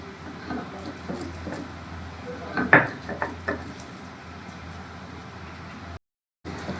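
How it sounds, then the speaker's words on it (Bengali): Cashews and melon seeds are ground by hand on a stone slab with a stone pestle. Irregular scraping strokes and sharp knocks sound close by, peaking in a loud grind near the middle, followed by a short silence. "কাজু বাদাম আর চারমগজ দানাটা বেটে নিচ্ছি"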